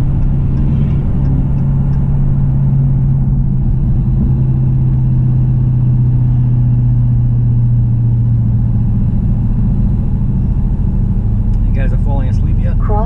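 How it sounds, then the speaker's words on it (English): A 2018 Dodge Challenger R/T 392 Scat Pack cruises with a deep, steady exhaust rumble heard from inside the car, low and continuous, with a navigation voice breaking in near the end. "I love the exhaust."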